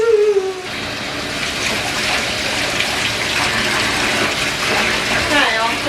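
Water gushes steadily into a bathtub to bathe a baby, a continuous close rush filling the whole clip, with a brief voice at the start.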